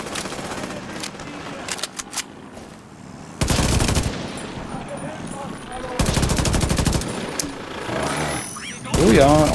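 Enemy gunfire in The Division 2 comes in bursts of rapid automatic fire, loud and close, with quieter scattered shots and game noise between the volleys.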